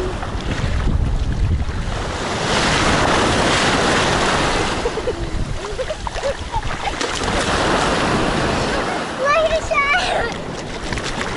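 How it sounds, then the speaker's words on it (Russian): Heavy sea waves surge and break in loud swells at Cleopatra Beach while wind buffets the microphone, with voices speaking over the roar. "Смотри, волны сильные."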